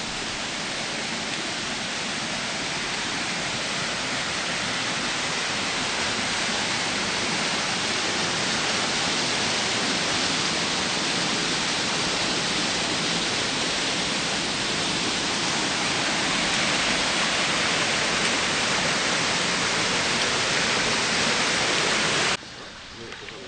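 Steady, full rush of flowing spring water in Aso, Kumamoto, continuous and close, with no pauses, cutting off abruptly near the end.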